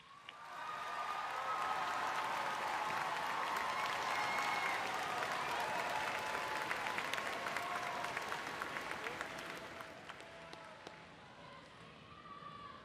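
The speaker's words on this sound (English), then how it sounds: "Please look to the stands and applaud them." Graduates at a spring commencement ceremony applaud their family and friends in the stands: broad, sustained clapping from a large crowd in a big hall, building quickly, holding, then thinning out into scattered claps.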